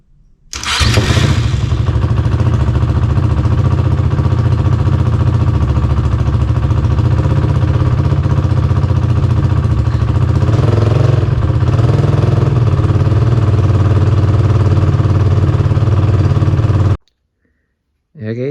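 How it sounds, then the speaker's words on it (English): A Honda 450 quad with a freshly filled radiator cranks and fires, then settles into a loud, steady close-up idle for about fifteen seconds before cutting off abruptly. "got the old quad started up, got some coolant flowing through it"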